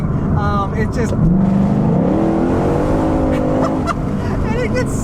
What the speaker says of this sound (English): I think the thing I love the most is that exhaust note. It is just so glorious sounding.